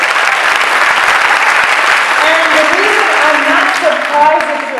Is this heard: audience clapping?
yes